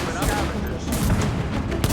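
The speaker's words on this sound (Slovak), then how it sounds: "dám ich dole môj koltom" Rapid gunfire from a Colt revolver in a shooter video game, several sharp bursts cracking out in quick succession at high volume across two seconds.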